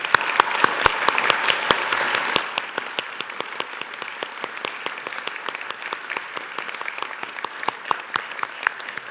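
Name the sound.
graduation ceremony audience applauding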